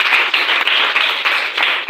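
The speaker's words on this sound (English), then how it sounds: "A round of applause." A round of applause from a gathered audience, brisk clapping in uneven bursts that stays loud and close for the whole moment.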